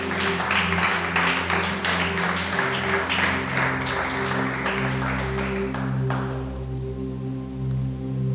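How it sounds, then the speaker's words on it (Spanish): Applause from a church congregation fills most of the span as dense, steady clapping over a low sustained organ or keyboard drone, then thins out near the end, leaving the held tones alone. "Vamos a darle un aplauso a Jesús."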